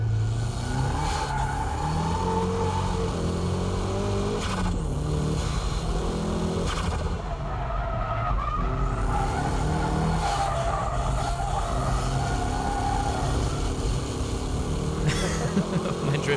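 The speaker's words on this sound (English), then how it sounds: "My drifting is a bit wild, isn't it?" A car drifting, its engine revving continuously while the tires skid and squeal through long slides, loud and close throughout with shifting engine pitch.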